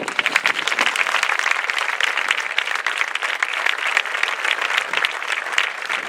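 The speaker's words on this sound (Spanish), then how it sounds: "un fort aplaudiment per Miquel" A large audience at an anniversary celebration in the Balearic Islands applauds a person, producing dense, continuous clapping that stays loud and even throughout.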